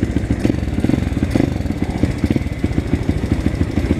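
An Apollo RFZ enduro dirt bike's small single-cylinder engine runs steadily up close, a loud, rapid, uneven putter with no voices over it.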